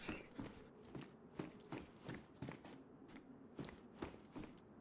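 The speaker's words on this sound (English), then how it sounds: "hear my footsteps in there, other people's" Footsteps of a character walking inside a building in the survival game DayZ, played on PS4: a steady, quick run of soft thuds and scuffs, close but quiet, with no talk.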